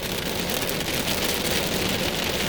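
Heavy rain from a weak supercell thunderstorm with strong wind, a dense, steady hiss of nearly horizontal rain pounding surfaces close by, with no voices.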